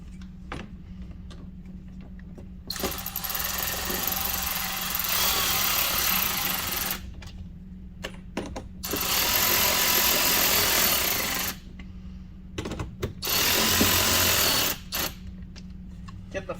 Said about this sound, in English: We're just screwing these back into the factory holes.